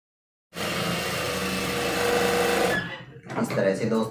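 A sewing machine running a seam on an eight-panel petticoat, with a steady continuous whir for about two seconds that then breaks off into shorter uneven bursts and handling noise.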